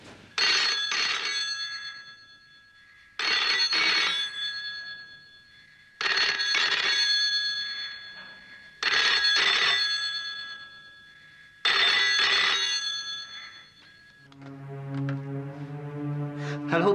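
A telephone bell rings loudly in five evenly spaced bursts, each about two seconds long with short silent gaps, followed by a different lower electronic tone at the end.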